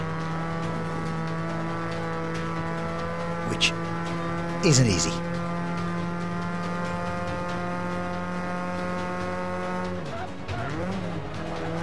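Racing car in Forza 5 lapping a track, its engine droning steadily with many even harmonics, a brief tire squeal and shifting pitch as it brakes and accelerates, while someone talks over it throughout.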